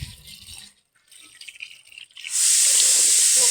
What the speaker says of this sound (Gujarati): ચાલો આપણે ધોઈ નાખીએ ચોખા.